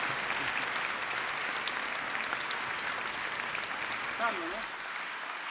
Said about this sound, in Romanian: Aplauze pentru maestru!